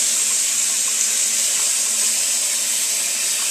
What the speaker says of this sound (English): then I take my screen holder, rinse it off very well